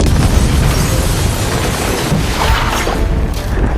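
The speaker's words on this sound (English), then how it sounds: "So anyway, splosions." Loud, continuous booming explosions from an action scene in the film xXx, dense low rumble with crashing bursts throughout, no talk.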